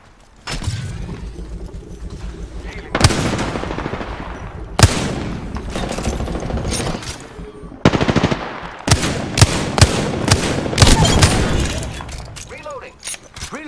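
Loud automatic gunfire from Apex Legends comes in repeated bursts and sharp single shots, with heavy impacts and mechanical clatter between them and a voice speaking over the action.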